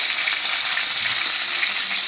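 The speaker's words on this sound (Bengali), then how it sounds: "এইখানে দেখো আমি যে আমার মাথা দুটো আমার ভাজা হয়ে যাচ্ছে" Two hilsa fish heads, dressed with lemon juice, fry in a pan with a close, steady crackling sizzle and no talk.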